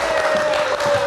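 Studio audience at a live late-night talk show applauding to welcome guest Rachel Chia, a brief dense burst of clapping over a steady held keyboard tone.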